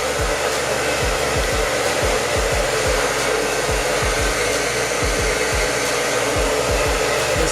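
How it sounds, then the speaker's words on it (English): Hair dryer blow drying a wig, a loud, unbroken close-up roar with faint low thumps as it moves. "So you just keep blow drying."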